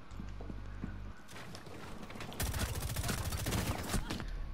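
Gunfire in Rainbow Six Siege, with scattered shots and then a dense, loud burst of rapid fire in the second half.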